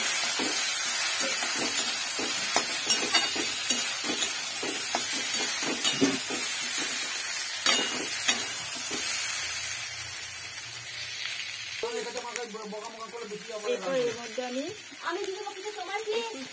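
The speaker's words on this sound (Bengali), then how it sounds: "এরপর আমি সবজিগুলো এর মধ্যে দিয়ে দেব, দিয়ে আবার একটু ভেজে নেব ভালো করে।" Vegetables fry and are stirred in a pan, a steady sizzle with repeated utensil scrapes and knocks, while a person talks over the last few seconds.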